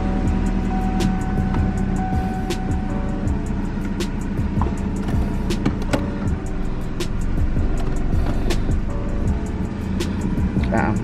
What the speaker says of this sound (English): And then we just have to start the car.